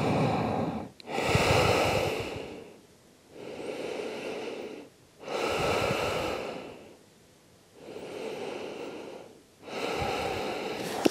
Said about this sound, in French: On vient prendre 3 profondes respirations ici.